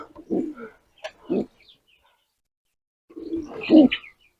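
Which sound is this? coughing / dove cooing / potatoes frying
dove cooing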